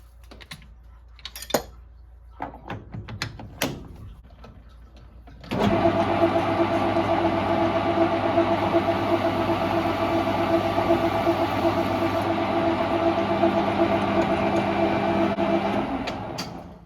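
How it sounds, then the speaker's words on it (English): A metal-cutting lathe turns a chamfer on a steel roll center correction pin, a steady loud machine hum with layered tones running continuously after a quieter stretch of scattered clicks and handling noises. "So now we need to put some chamfers on, which is going to be tricky. I'll put a chamfer on this end"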